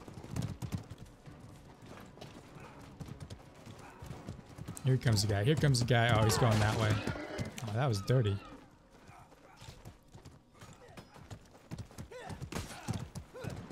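Horse hooves clip-clopping in the medieval combat game Mordhau, rapid galloping beats rising loud in the middle of the clip amid game noise, with a player talking over it.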